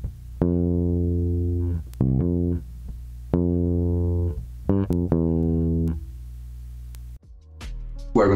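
Bass guitar playing the bass line, a groove of sustained low notes and quick pickups, close and clean, ending with a brief scrape.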